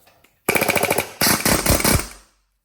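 A Matco air hammer fed from a home garage air rail hammers away in two rapid, rattling bursts, the first about three-quarters of a second and the second slightly shorter, loud and close with a brief gap between.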